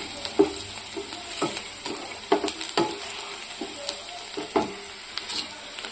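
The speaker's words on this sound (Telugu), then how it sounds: "ఫ్రై అయిన తర్వాత ఇప్పుడు మనం టమాటా ముక్క వేసుకున్నాం." Tomato pieces sizzle in a pan with fried onions while a spoon stirs them, giving a steady hiss broken by a string of sharp scraping knocks. Close and fairly quiet, with no voices.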